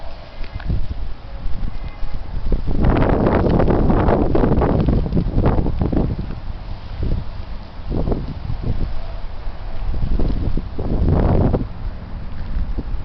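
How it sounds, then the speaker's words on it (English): Heavy wind gusting outdoors before snow, roaring and buffeting the microphone in loud surges that swell and fade repeatedly over a rushing background. "Here it is. The heavy wind."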